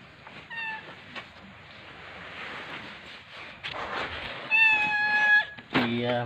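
A stray cat at a market meows a few times close by, clear drawn-out calls standing out over the background bustle while people talk nearby.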